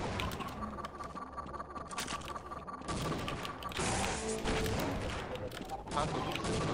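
Gunfire in the Half-Life shooter game, with dense rapid shots that grow louder and more continuous partway through, mixed with game noise and players talking.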